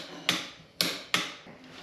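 Three sharp clicks from a torque wrench tightening a bolt on a BMW F650GS Dakar front fork, close and isolated, spaced unevenly across a short stretch.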